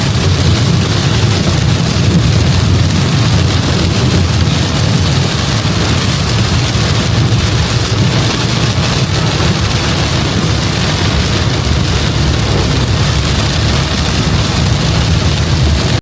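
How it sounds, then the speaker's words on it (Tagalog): Heavy rain pouring down during a car trip in Pampanga at night, a dense, loud, unbroken roar lasting the whole stretch. "grabe, ang lakas ng ulan"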